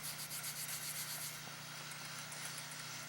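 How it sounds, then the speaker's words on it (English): Chalk-like chunks are rubbed over a doll head being prepped for face painting, giving a steady, faint, soft rasping friction with repeated strokes and no talking. "I take these little chunks, and it's going to be just like chalk, and I will just go over it, and I rub that all on it."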